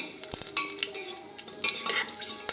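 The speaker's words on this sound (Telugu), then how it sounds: "ఈ పోపు బాగా చిట్లిన తర్వాత పచ్చిమిరపకాయలు వేసుకునేసి బాగా ఆయిల్లో ఫ్రై చేసుకోవాలండి" Green chillies fry in hot oil after a mustard seed tempering, with a soft sizzle under brisk stirring and occasional utensil clinks against the pan, close by.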